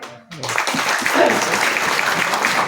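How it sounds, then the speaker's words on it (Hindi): Audience clapping at a live comedy show by Dr Jayant Shah in Rudrapur, starting after a brief spoken moment and swelling into sustained, fairly loud applause from a crowd. "पर आप लोगों के लिए मैं मंच सिखाऊंगा एक ताली"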